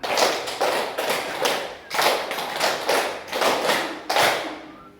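A class claps a rhythmic pattern in unison, a series of crisp group claps grouped in rapid runs over several seconds, close and steady.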